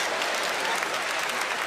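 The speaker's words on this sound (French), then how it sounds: "applaudissez pour le groupe Chérubin" An audience claps for the Chérubin group at a live show: dense, continuous applause from a crowd, loud and steady for the whole stretch with no break.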